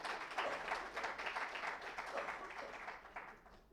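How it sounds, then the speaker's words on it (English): Audience applause welcoming a guest speaker at a coaching event, steady dense clapping from a crowd lasting several seconds and tapering slightly at the end. "let's have a big round of applause for her"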